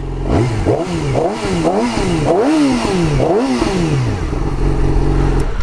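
A Yamaha R6 sport motorcycle engine idles close by and is revved repeatedly, each blip rising and falling in pitch, with a steady loud rumble and no talking.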